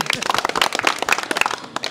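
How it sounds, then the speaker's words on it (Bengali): A group of people gathered at the Rahman Agro cattle farm in Ashuganj claps in applause: quick, uneven hand claps packed closely together, fairly near, with some voices mixed in underneath. "চাচার জন্য একটা হাততালি।"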